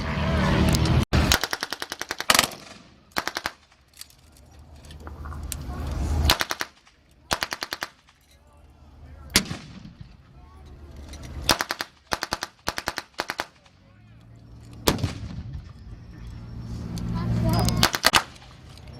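Gunfire rings out at a WWII tank battle reenactment as anti-tank weapons fire on armor: sharp repeated bangs and bursts of rapid shots, some loud and close, others more distant, scattered irregularly throughout with no clear talking.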